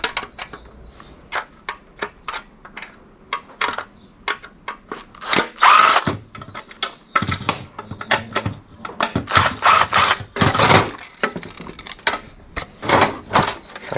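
A power tool drives out screws while a scrap microchip reader is taken apart: a series of short, sharp, close whirring bursts in an irregular rhythm, broken up by clicks and handling clatter of plastic and metal parts.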